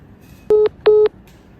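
Two short touch-tone keypresses ring out in quick succession as an office telephone is dialed to transfer a call, each beep clean and clear over a quiet room hum.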